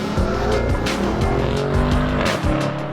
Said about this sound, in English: The V8 is smooth and makes some fantastic noises.